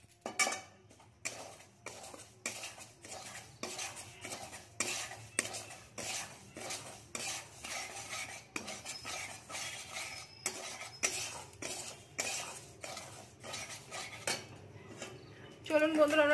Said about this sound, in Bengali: এখন আমরা সুজিটা ভেজে নেব